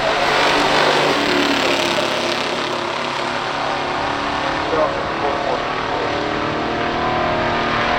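A 1967 Pontiac GTO and a 1972 Chevelle SS 454 run a pure stock drag race, their engines giving a broad, loud, sustained roar that holds steady throughout with little change.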